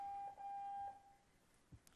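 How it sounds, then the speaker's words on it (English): A steady high electronic beep holds for about a second, then cuts off, leaving faint background noise and a soft knock. "Something is beeping."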